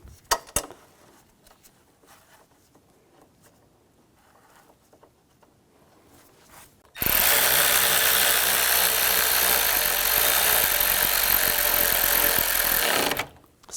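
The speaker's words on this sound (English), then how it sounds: "Snug down the bolt." Power tool snugging down a bolt on a 3.6L Chevrolet Equinox engine: one loud, continuous whirring buzz of about six seconds, close up, following a quiet stretch with a few faint clicks.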